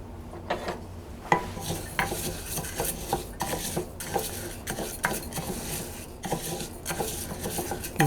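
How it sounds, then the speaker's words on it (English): Arborio rice stirred in a few tablespoons of olive oil in a pot, a steady run of scraping, rustling spoon strokes with light clinks against the pot, close and continuous. "Give that a nice stir"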